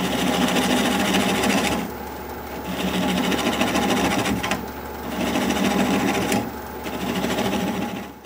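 A wood lathe turns a mesquite bowl at slow speed while a 3/8 inch bowl gouge cuts, giving a steady whirring scrape that rises and drops in three repeated passes.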